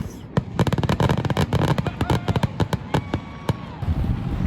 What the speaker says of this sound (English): the fireworks over the lake.